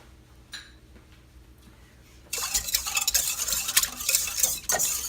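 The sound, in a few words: mixing instant yeast into dinner roll mixture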